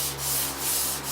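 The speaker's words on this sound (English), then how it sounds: "We're now sanding it down now." Steady rasping of sandpaper scraping across a re-textured orange peel/knockdown ceiling, rising and falling in slow strokes, close and continuous with no voices.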